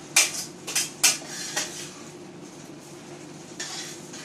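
Food being stirred in a cooking pot with shallots, chives and Chinese coriander, giving a few sharp metallic scrapes and clinks of utensil against pot close by, then a quieter scrape after a pause, with no talking.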